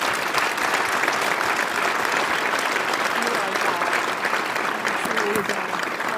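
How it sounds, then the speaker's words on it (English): Church audience at Valley Church in Caldwell applauding: dense, steady clapping from a sizeable crowd, loud and continuous throughout with no letup. "Let's give her one more round of applause."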